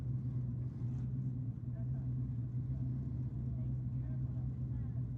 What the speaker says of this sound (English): Next up, pair of Holdens are rolling through.